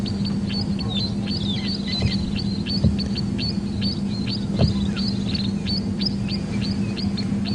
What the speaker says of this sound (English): I think what's shouting next to it is the three-banded plover.